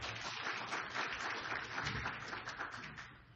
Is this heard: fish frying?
no